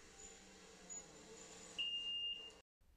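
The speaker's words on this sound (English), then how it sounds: "A few seconds after you lock the XX14 in place on your brake disc, you'll hear a single arming beep." A single high electronic arming beep from a XENA XX14 disc-lock alarm fitted to a motorcycle brake disc, a steady tone lasting well under a second over quiet room background.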